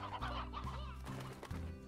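Hens clucking in the Slime Rancher video game: a busy cluster of clucks and short throaty calls repeating over a low steady hum, moderately close, with no voices.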